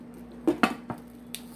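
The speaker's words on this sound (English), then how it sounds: "Put my lid on it" A lid set onto a pot of broccoli steaming in a little water, heard as two or three close metallic clanks and a rattle, with a low steady hum behind them and a brief faint scrape at the end.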